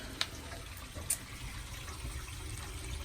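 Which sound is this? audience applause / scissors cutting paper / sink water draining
sink water draining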